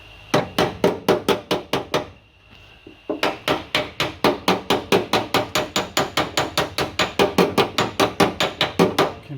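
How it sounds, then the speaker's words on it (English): Rapid, steady hammer blows ring out on sheet metal during Mk2 Escort floor and wheel arch repair, about three per second, with a short pause before the hammering resumes at the same pace. "You can hear the difference in hammer tone when you're getting it down"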